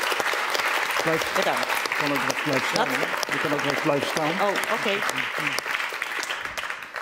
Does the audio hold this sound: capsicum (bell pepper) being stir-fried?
no